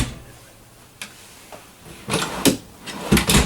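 Several soft-close full-extension drawers in a 2016 Forest River Berkshire XLT diesel RV glide shut with muted thuds and light clicks, close by and spaced irregularly.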